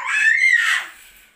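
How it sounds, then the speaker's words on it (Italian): A young girl lets out a single high-pitched scream, close and loud, that rises and then fades away over about a second. "fa urlare sua sorella"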